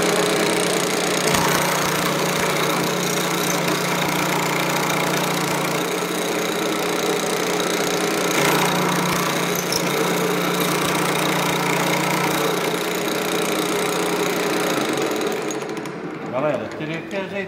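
Pullmax nibbling machine working 3 mm steel plate, a loud continuous mechanical chatter and hum running steadily for most of the span before winding down near the end, with someone talking over it.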